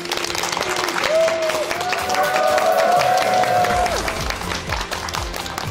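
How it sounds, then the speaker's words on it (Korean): An audience at a Korean lecture event claps warmly to welcome a veterinarian lecturer, steady dense applause under a sustained musical tone, loud and close throughout. "큰 박수로 맞아주세요"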